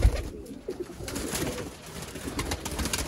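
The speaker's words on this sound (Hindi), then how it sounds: "सियालकोटी कबूतर VIP अच्छे और दोस्तों नायाब तरीन सियालकोटी कबूतर" Sialkoti pigeons coo in soft, repeated throaty calls close by, with rustling and a few bumps in the background and no talking.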